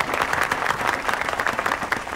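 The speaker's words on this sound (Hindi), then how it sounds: "तालियां।" A crowd gathered at a neighbourhood political rally bursts into steady, dense applause, many hands clapping together at close range.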